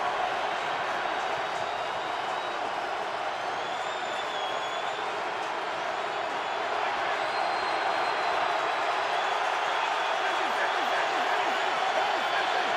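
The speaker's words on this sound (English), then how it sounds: "Crowd in full throat." A packed stadium crowd at an NFL game between the Ravens and Steelers roars as one broad, unbroken wash of noise, loud and steady throughout, with a commentator talking faintly over it.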